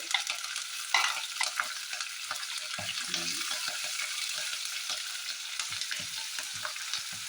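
Urad dal, curry leaves, ginger and green chili sizzle steadily in hot oil, with a spoon stirring and scraping the pan in a busy, close, continuous crackle and no talking.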